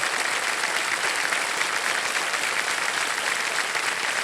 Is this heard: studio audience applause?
yes